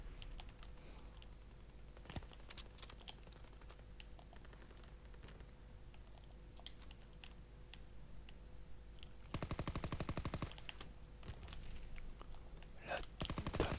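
A Thompson submachine gun fires in a WWII video game, with quiet clicks at first and then a dense, loud automatic burst that stops and briefly returns at the end.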